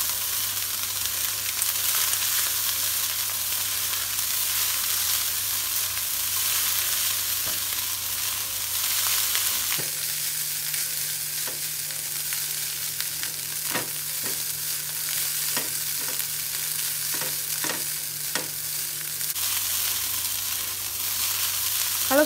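Nasi goreng rendang fried rice being stirred in a hot pan, a steady loud sizzle filling the whole stretch, with sharper scraping clacks of the spatula in the second half and no talking.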